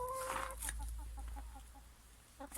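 White Leghorn hen making a few soft clucks near a garden coop, with steady low background hum underneath.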